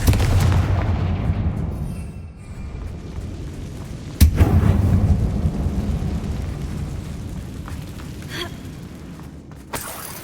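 Spell blasts from the Confringo fire charm in the Hogwarts Legacy video game: two sharp, loud booming bursts about four seconds apart, each decaying into a rumbling tail, with no talking.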